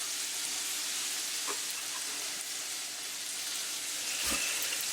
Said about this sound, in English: I'm going to get these onions going.